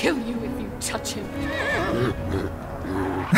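A horse whinnies in the LEGO Lord of the Rings video game, a clear rising and falling neigh lasting about two seconds, with a voice speaking over parts of it.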